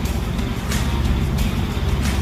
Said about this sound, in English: the exhaust sounds different, or did you just idle down a little bit